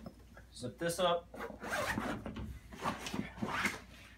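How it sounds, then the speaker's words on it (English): A snowboard travel bag being zipped shut, a long run of ratcheting zipper rasps close by, with someone talking over it. "I can zip this up"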